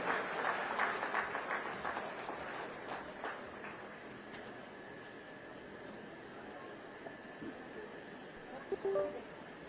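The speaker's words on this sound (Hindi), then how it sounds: "तालियां हो आपकी तरफ से।" An audience applauds on stage at a government ceremony in Ranchi; a burst of clapping is strongest at the start, then fades into a lower crowd murmur with some voices.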